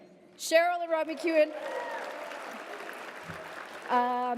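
Audience applause and cheering for recipients at an alumni awards ceremony, a moderate crowd clapping steadily between bursts of a presenter's voice at the start and end.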